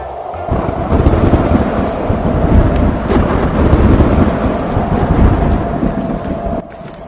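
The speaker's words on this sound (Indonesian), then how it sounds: "hujan lagi. Untung aku bawa payung." Heavy rain pours steadily with deep rumbling thunder rolling beneath it, loud and close throughout before cutting off sharply near the end; no voices are heard.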